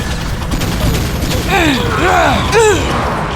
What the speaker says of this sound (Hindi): ब्लू पल्स गन आक्रमण।